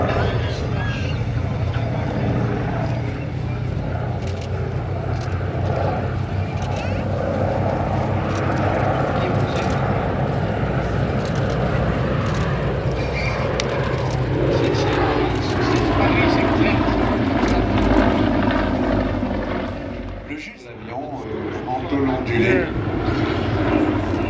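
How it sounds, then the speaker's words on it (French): A Junkers Ju-52 trimotor airplane flies at the La Ferté-Alais airshow with a continuous droning propeller-engine roar that holds steady, dips briefly and then returns, heard from the ground under crowd noise. "Le Ju-52 continue donc d'évoluer dans le ciel."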